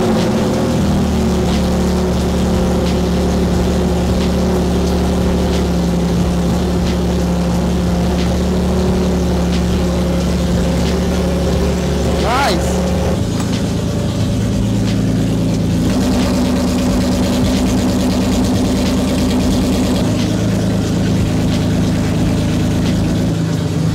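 A BMW E30 starts and settles into a steady, loud idle while fitted with a new oil cooler. The engine hums low and continuous, and its pitch shifts partway through as the revs drop to a lower settle.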